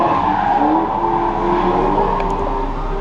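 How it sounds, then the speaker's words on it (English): A sports car drifting on a track at an exotic car racing venue in Las Vegas, its tires squealing in a long continuous screech over a steady engine note, fairly close. "There goes the drifting guy again."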